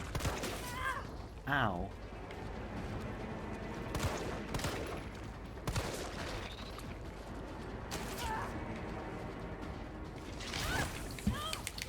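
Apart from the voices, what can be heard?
pistol gunshots in the video game Resident Evil 3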